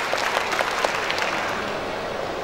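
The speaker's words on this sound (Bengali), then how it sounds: "আমরা একটা জোরে করতালি দিচ্ছি জেসন পুত্তুসারির জন্য" An audience of distributors at a Pran RFL Group corporate event breaks into loud, dense applause for a guest. The many claps blend into a steady roar that carries on without speech.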